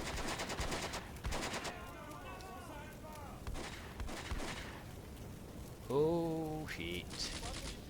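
Machine gun bursts in the WWII strategy game Combat Mission Beyond Overlord, French versus Germans, several rattling volleys at moderate distance mixed with scattered battle sounds while someone comments.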